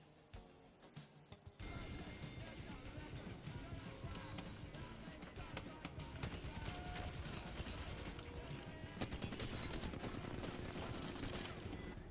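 Rapid gunfire in Apex Legends crackles in dense bursts over several seconds during a close fight, with constant clatter of shots and effects throughout.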